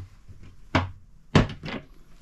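Cupboard doors in an off-road caravan banging open and shut, two sharp nearby thunks about half a second apart, the second louder and followed by a softer knock, with no talk.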